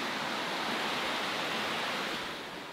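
A swollen river flowing fast after an overnight rise, a dense, steady broadband rush of water, close and continuous, fading slightly at the end.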